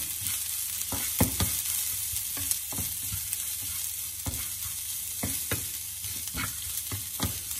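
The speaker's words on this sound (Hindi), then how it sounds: "मसाले को अच्छे से रोस्ट करेंगे" Stone flower, mace and fennel roasting in a pan, a steady close sizzle broken by frequent rhythmic scrapes and clacks of a spoon stirring the spices, no voices.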